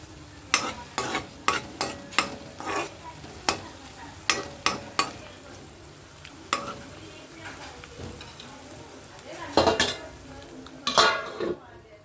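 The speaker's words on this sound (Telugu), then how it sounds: "మధ్య మధ్యలో ఇలా కలుపుతూ ఉండాలండి చూసుకుంటా ఉండాలి" Onions cooked in a covered pan for chicken are stirred now and then, making clinking, scraping spoon strokes in uneven bursts over a soft frying sizzle.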